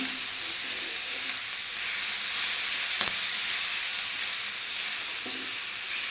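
Masala for a Madurai-style egg dish fries in a pan while being stirred, giving a steady, close hiss and sizzle throughout with a couple of faint scraping knocks.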